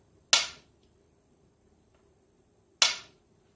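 Two sharp, bright metallic taps of a screwdriver on a turntable platter covered with a synthetic mat, a few seconds apart, each ringing briefly before dying away in near silence.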